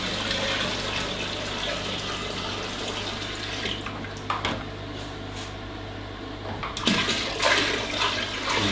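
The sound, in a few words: water poured into machine kettle for cleaning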